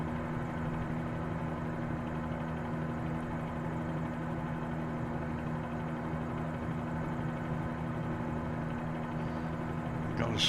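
Simulated helicopter in flight over Athens, with a constant droning engine and rotor hum that stays loud and unchanging throughout.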